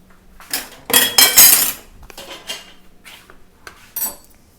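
Caramelized French onion soup with cauliflower being ladled into dishes: a run of clattering ceramic and metal knocks and clinks, busy at first, then a few spaced-out taps, close by and fairly loud.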